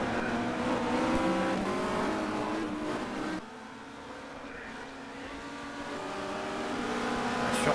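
Touring cars racing at Barcelona in the 1990 WTCC, engines loud and close as they roar past with revving and gear changes, a brief dip in level before the engine note builds again.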